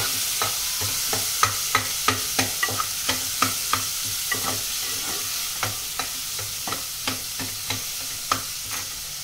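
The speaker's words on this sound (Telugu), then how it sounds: "చిన్న ముక్కలుగా కట్ చేసుకున్న ఉల్లిపాయలు, ఫ్రోజన్ వెజిటేబుల్స్ ఇవన్నీ బాగా వేగనివ్వాలండి" Chopped onions and frozen vegetables frying in a pan for a sorghum khichdi, a continuous sizzle punctuated by a regular run of distinct stirring scrapes, no talk.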